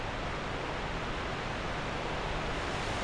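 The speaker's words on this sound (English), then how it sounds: "Back at the waterfall." A waterfall in the video game Dark Souls II gives a steady, broadband rushing roar that stays constant and fairly soft throughout, with no voices over it.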